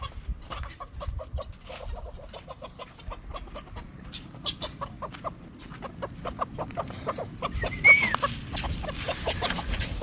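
Chickens on a free-range farm cluck in a steady rhythmic stream of short calls, close and continuous, with a faint low rumble of outdoor background.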